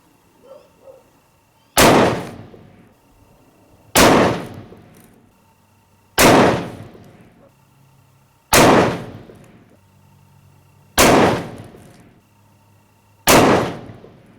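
A volley of six .338 Lapua rifle shots, each a loud sharp blast with a ringing decay, spaced roughly two seconds apart in an even rhythm outdoors.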